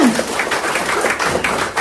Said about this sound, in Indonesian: Tepuk tangan dulu untuk Bapak Ibu semua